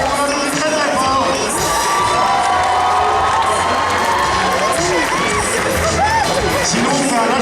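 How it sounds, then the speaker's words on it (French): A large audience at a cosplay contest awards ceremony cheers, whoops and claps loudly, with shrill shouts and whistles layered over a constant dense roar that never lets up. "c'est maintenant qu'on lève les bras et qu'on applaudit très très fort."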